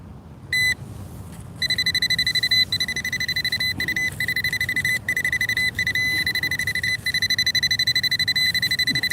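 Bounty Hunter Tracker metal detector giving a steady high electronic tone over a buried nail during a morning coin hunt, sounding in repeated beeping bursts with short breaks, loud and close over faint outdoor background noise.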